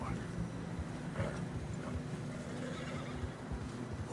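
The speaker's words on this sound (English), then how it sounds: "Horses are struggling." Horses neighing and whinnying as they struggle through deep fresh snow in a video game, with hoof clops and wind noise beneath, and voices talking over the scene.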